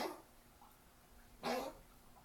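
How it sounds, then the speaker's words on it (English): An old, asthmatic dog gives two short, raspy coughs about a second and a half apart, faint and close in an otherwise quiet room. "He's got asthma, so he's coughing."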